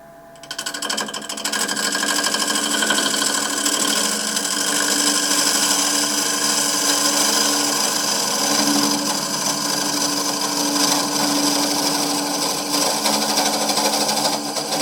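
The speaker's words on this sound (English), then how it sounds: "I'm going to use my large carbide tip tool to scrape that out" A large carbide tip tool scrapes inside a banksia wood bowl spinning on a lathe, making a continuous loud rough hiss and whir with a steady machine hum that starts abruptly and holds throughout, with no talking.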